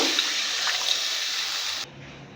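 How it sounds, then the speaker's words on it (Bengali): Water poured from above into a pan of spiced, fried potatoes, a steady close splashing stream that cuts off near the end, leaving quiet kitchen background. "এখন আমি একে জল দিয়ে দেব পরিমাণ মতো জল দিয়ে দেব"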